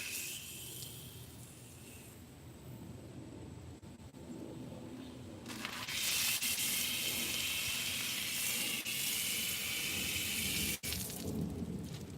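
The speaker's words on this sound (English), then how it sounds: "if I have leftover soap, I just run it through the hose." Water runs through a hose carrying leftover soap, a steady hiss that swells into a louder, brighter rushing spray partway through and continues to the end.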